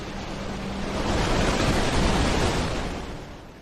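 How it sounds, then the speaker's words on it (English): Atlantic Ocean surf rolls in along South Africa's west coast, a loud, broad wash that swells to a roaring peak midway and then eases back. No voices are heard. "Along the west coast, the Atlantic Ocean crashes against the shore"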